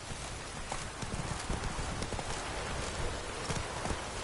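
Roach, the horse in The Witcher 3, trots with a quick, even clip-clop of hooves under a steady hiss that sounds like rain.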